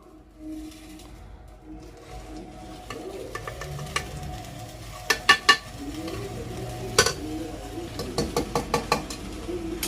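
Mutton ghee is stirred in a pan for fried rice, with a soft sizzle under repeated sharp scraping taps of a utensil against the pan that grow more frequent later on, and a voice speaks faintly in the background.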